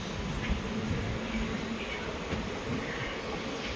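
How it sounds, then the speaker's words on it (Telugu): Passenger train pulling away from Veeravasaram station, a fairly quiet, continuous rolling rumble with a faint steady hum and no clear speech. "వీరవాసరం నుంచి కూడా స్టార్ట్ అయిపోయింది మన ట్రైన్"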